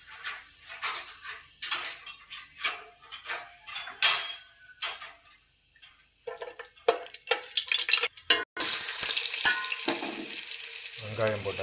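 Onions frying in oil for biryani, a run of close scraping stirs and clatters over soft sizzling, giving way to a louder continuous hiss of frying near the end, with no talk.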